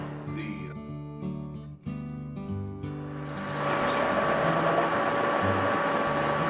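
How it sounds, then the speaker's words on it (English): A candle wax dispensing machine runs its small pump, pushing melted wax up through a heated hose to a dispenser nozzle. A steady mechanical hum and whir builds into a louder, continuous whooshing drone, close by and with no talking. "The little pump dispenses it up through the hose and back down."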